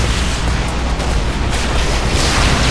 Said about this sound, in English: that was our own explosion